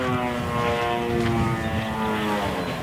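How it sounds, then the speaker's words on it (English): A 38cc gas-engine RC airplane, the Roadrunner, flies overhead. Its propeller engine gives a loud, steady, buzzing drone with a strong harmonic whine that holds throughout and sounds much like a full-size plane. "It sounds like a real plane coming."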